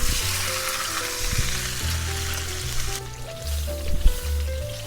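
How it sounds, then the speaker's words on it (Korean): Wine-marinated chicken sears in butter in a frying pan, giving a steady close sizzle and crackle with occasional stirring scrapes throughout. "닭 익는 소리 들리죠?"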